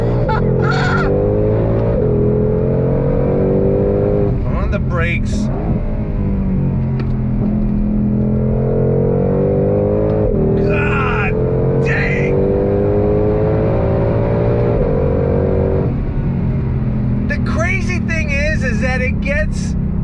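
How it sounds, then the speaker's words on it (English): A 2022 Ford Shelby GT500 Heritage Edition's V8 revs and accelerates loudly from inside the car, rising and falling through gear changes in a steady roar, while someone talks over it. "the sound of that V8 is just harmonious"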